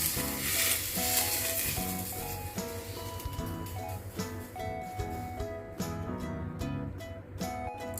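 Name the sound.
hot oil poured over spring onion, sizzling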